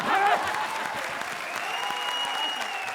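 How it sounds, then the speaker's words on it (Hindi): Studio audience applause at a televised comedy show, a fairly faint steady patter of clapping that swells briefly at the start and then holds evenly, with talk mixed in. "आप तालियां बजा रहे हो"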